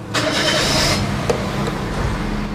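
A 2012 Daihatsu Xenia R Deluxe with automatic transmission cranks briefly and its engine catches, settling into a steady, close idle with no talk over it.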